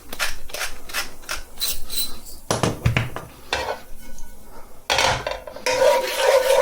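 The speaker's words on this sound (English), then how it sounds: "We're going to get a decent amount of black pepper in there, coarsely ground" Coarse black pepper is ground by hand into rendered guanciale fat in a pan, with close rhythmic gritty crunching and scraping in uneven bursts, broken by a few short pauses and metallic clinks.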